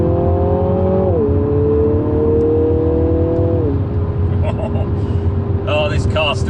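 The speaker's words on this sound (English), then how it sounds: "That Remus exhaust sounds utterly brilliant" Mini car driving with a Remus exhaust, its engine droning steadily and loud throughout, pitch dipping as the revs shift, with brief higher whines toward the end.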